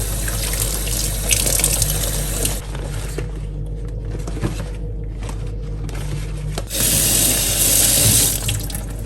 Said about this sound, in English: wash the leaves thoroughly with some vinegar and normal tap water